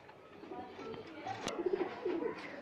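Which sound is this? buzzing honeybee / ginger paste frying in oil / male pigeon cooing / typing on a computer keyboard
male pigeon cooing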